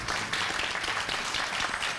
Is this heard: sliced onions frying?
no